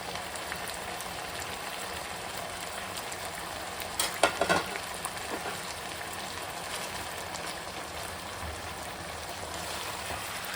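Chicken cooking in a pan, a steady loud hissing sizzle throughout with a brief cluster of stirring clatter near the middle, close and continuous, no one speaking.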